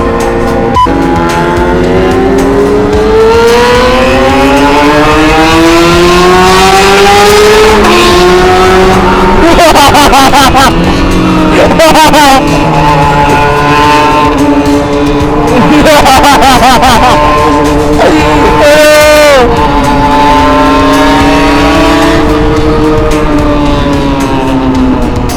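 A Kawasaki ZX25R sport motorcycle with a cut-down exhaust revs very loudly and close, its pitch climbing and falling again and again in throttle bursts that last the whole stretch.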